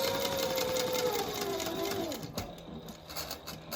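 A sewing machine runs steadily, stitching through a paper card pocket, its motor whine sliding lower before it slows and stops with a few softer mechanical clicks.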